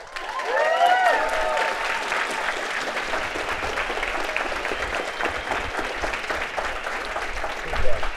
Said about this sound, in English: Let's give another round of applause for Scott Hanselman.